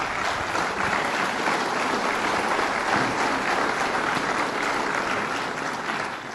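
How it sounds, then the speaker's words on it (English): Steady, dense applause from a crowd at a governor's event at SUNY Plattsburgh fills the whole stretch, loud and even with no break. "let's give them a round of applause and acknowledgement"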